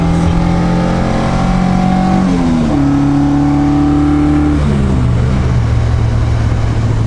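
A loud, sustained Alfa Romeo engine note rises and falls as it revs through gear changes, its intake induction roar steady and near throughout, with no voices.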